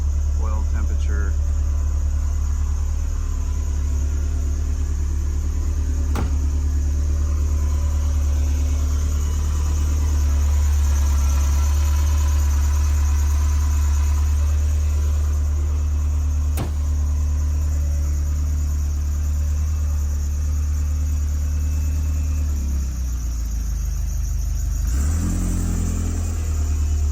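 A 1978 Ferrari 308 GTS engine idles after a cold start with the choke in use, a loud steady rumble with a few revs, while people talk over it.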